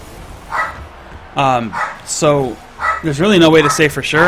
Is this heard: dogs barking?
yes